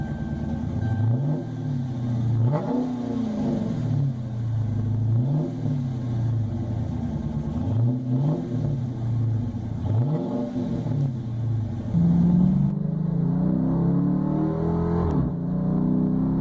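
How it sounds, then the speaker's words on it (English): A 2012 Dodge Charger R/T engine is revved several times from idle. Each throttle blip rises to a deep roaring growl and falls back to a burbling idle, about five even cycles close up, ending on a steadier higher idle. "Let's go ahead and start it up and see what it sounds like"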